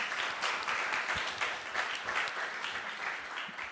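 Dense, steady applause from a convention audience, many hands clapping continuously and fairly loudly with no pauses and no clear voices.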